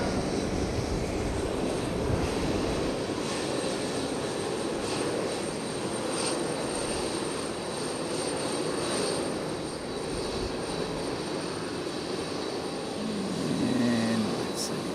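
A fixed-wing airplane taking off at Fukuoka International Airport gives a steady, broad engine roar that holds for the whole stretch at moderate distance, with no talk over it.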